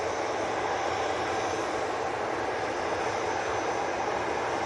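An airliner bound for Rhodes roars through its takeoff run at Manchester Airport, a steady, loud broadband engine rush that holds level throughout, with no voices.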